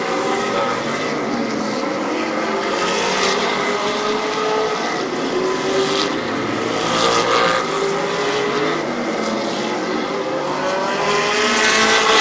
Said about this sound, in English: Mazzagatti right now in the 87, turning quicker laps than the 22 car of Mike Miller